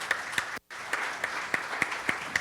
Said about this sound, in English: I would like to please give her a round of applause.